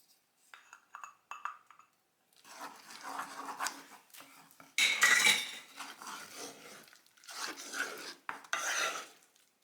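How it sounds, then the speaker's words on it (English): A utensil scraping and clinking against a pan while an egg yolk is stirred in off the heat, a steady close scratching with brief pauses and louder clatters in the middle. "Take off the heat and then stir in an egg yolk."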